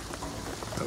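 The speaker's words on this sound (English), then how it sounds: "What I'm telling you is the rain is gonna flood it." Rain falls in Shadow of the Tomb Raider as a steady, even hiss of drops on surfaces, brief and fairly soft, with no voices over it.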